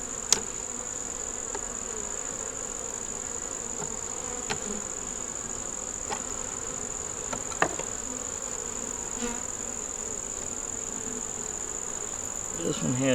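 Honeybees in a deep nuc brood box with four frames of eggs and brood hum in a steady high buzz, with faint taps and clicks of handling scattered throughout.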